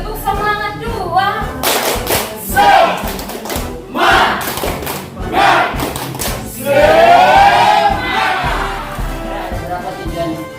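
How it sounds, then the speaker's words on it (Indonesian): A second rhythmic spirit clap by a group at a teacher workshop, with patterned bursts of clapping and chanted voices repeating over about ten seconds, loud and near, with a voice leading. "Tepuk semangat dua"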